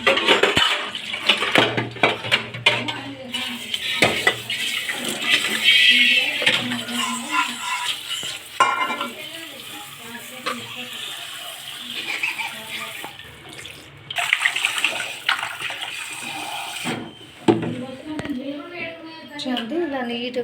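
Fish pieces for Telugu-style fish curry are rinsed under running tap water: a steady close splashing flow with clinks of a pot, heard under continuous talking.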